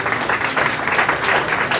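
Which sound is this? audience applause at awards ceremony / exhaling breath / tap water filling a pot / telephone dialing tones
audience applause at awards ceremony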